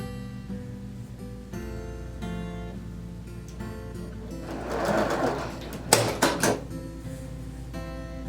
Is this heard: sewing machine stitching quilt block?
yes